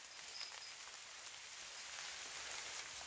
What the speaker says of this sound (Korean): 빗소리 한번 들어보십시오.